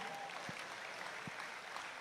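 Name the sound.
applause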